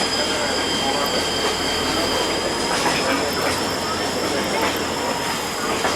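A train at a Lansdale Founders Day outing rumbles along steadily with a constant low roar, high wheel squeal and faint rhythmic clicks over the rails, heard loud and close from aboard.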